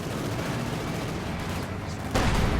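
Tank gunfire in Company of Heroes 2 rolls as a steady low rumble of distant battlefield shooting, ending in a sudden louder, closer blast near the end.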